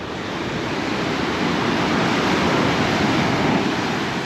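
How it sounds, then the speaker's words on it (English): Ocean waves breaking on the Tahiti coastline in French Polynesia, a steady loud wash of surf building and holding throughout, with no voices. "Nice waves."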